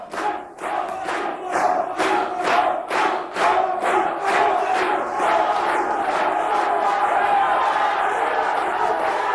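A crowd at a 1988 World's Strongest Man competition roars and cheers rhythmically for a strongman competitor, loud pulsing chants at first that merge into continuous sustained cheering.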